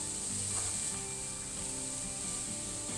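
Piri piri chicken breast sizzles on a Weber Weathermaster Touch set for direct grilling, giving a steady close hiss, with light scraping and rustling over it and no talking.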